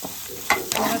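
Chicken stirred and fried in a pan, a brief scrape of stirring with soft sizzling, close and fairly loud, no talk.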